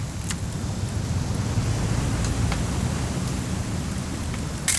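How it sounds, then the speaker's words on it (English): Rain falls steadily in the video game What Remains of Edith Finch, a constant hiss of drops with a low rumbling undertone. A few faint ticks sit on top, and no one speaks. "It's gonna rain the whole weekend, isn't it?"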